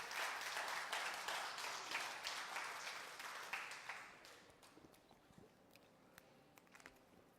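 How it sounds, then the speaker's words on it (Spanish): A church congregation gives a burst of applause during a sermon, faint and somewhat distant clapping that swells briefly and then dies away into quiet room noise with a few stray claps. "Dale un fuerte aplauso a Dios por ello."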